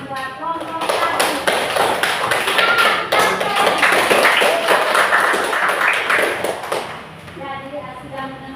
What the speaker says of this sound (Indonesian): dari kita tepuk tangan buat kelompok kami